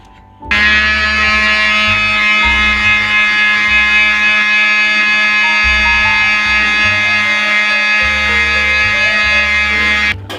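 A mixer grinder grinding coconut runs loud and steady for about ten seconds, a high whining motor hum with a shifting low rumble as it grinds, then cuts off.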